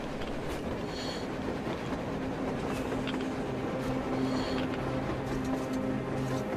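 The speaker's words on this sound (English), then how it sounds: "A train! A damn train on the surface!" In the post-apocalyptic shooter Metro Exodus, a train rumbles past on the surface with continuous loud clattering wheels and rolling rail noise, a sustained heavy roar with no talk.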